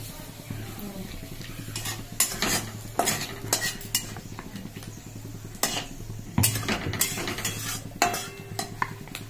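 Whole garam masala, a dried red chilli and bay leaf frying in hot oil, with a continuous sizzle under repeated sharp clinks and scrapes of a spoon stirring against the pan, heard close up without speech.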